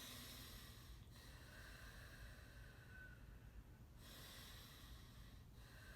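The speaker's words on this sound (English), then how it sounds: "take a few hard breaths in the beginning, exhaling and inhaling in and out through the nose" Quiet, forceful breaths rush in and out through the nose during a meditation exercise, a few long airy cycles with short pauses between them.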